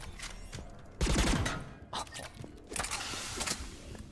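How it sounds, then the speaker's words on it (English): Geth pulse rifle firing in Mass Effect 3, heard as loud bursts of rapid automatic fire in several strings of shots with short gaps between them, close and punchy. "Geth pulse rifle. You know we gotta check out the new guns."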